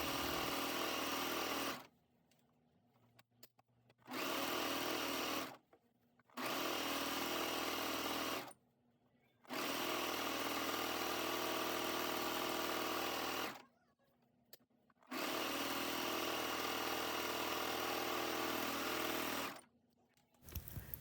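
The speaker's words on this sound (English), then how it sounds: "Again, I'm doing this on my serger" A serger sewing knit fabric for leggings whirs in fast, loud bursts, running for a few seconds at a time with short pauses of near silence between seams.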